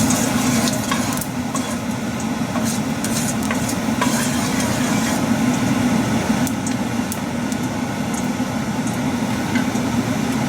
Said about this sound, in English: So at this point, we want to add in the kalonji.